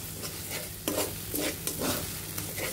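Mustard paste sautés and sizzles in a pan as a spatula stirs it, giving several scraping swishes over a loud, close frying hiss.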